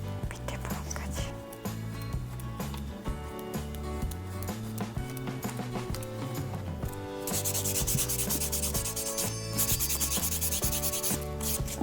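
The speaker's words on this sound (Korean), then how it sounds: "샌딩에도 거친 부분부터 좋은 면이 있잖아요" A nail file sands a nail extension in a salon with a steady rubbing scrape, and the strokes turn brighter and harsher partway through. Faint background music plays underneath.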